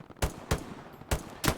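Four distinct gunshots in the WWII shooter Hell Let Loose, fired from far away, spaced irregularly and crisp, with a short echoing tail and no speech.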